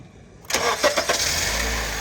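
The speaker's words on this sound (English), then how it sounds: "so we're gonna start the vehicle up" A 2012 Honda Civic engine cranks and catches, then settles into a steady idle. The start is close and clear, with no talking.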